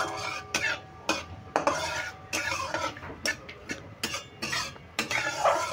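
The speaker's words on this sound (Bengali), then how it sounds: "এবার ফোড়নটা নেড়ে চেড়ে নেব।" A spoon stirs whole tempering spices with asafoetida in a pan for kachori filling, giving quick repeated scraping and clinking strokes in an irregular rhythm, close and fairly loud with no talking.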